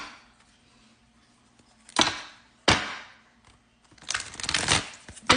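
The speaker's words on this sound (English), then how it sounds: "We're going to shuffle these cards 5 times." Tarot cards being shuffled by hand, three bursts of crisp riffling that come up close and clear against a quiet room, the final one longer and more sustained.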